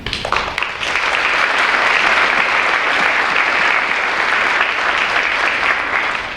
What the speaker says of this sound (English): Once again, a round of applause to the three winners.